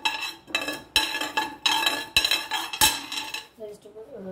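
A spoon clinks and taps against a pan in about six sharp, bright strikes as mustard seeds are added, close and fairly loud with brief pauses between knocks, then fading into softer rattling at the end.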